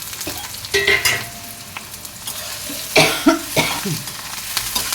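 Tempering spices with green chillies and curry leaves crackle and sizzle in hot oil with a few stirring scrapes; a person coughs briefly partway through.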